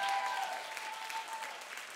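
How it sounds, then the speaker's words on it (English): Church congregation applauding during a sermon, a soft, steady wash of clapping from a crowd heard at moderate distance, gradually easing slightly in level. "clap like God is faithful"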